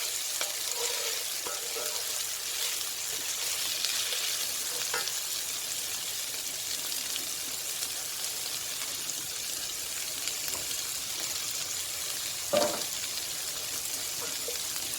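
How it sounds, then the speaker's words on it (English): Onion, garlic and butter beans sizzle steadily in a pan, a soft, even frying hiss with faint stirring clicks and one brief louder scrape near the end, no voices. "the idea then is just to caramelise the onion and the garlic and the beans a little bit"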